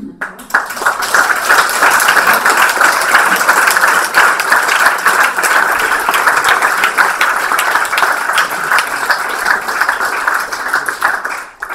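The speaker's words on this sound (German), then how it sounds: "Vielleicht nochmal einen herzlichen Applaus." Warm applause from the audience at a public presentation of city action plans in Halle, dense and loud, rising quickly and holding steady for about ten seconds before fading out.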